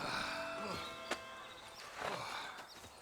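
Cattle moo a few times at close range on a ranch in Red Dead Redemption, with a short sharp click between the calls and faint voices behind.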